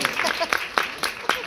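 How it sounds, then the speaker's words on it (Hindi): A crowd at the Kumbh Mela applauds for a singer, with scattered claps landing in a loose, uneven rhythm under a voice talking over them. "जोरदार ताली बजनी चाहिए।"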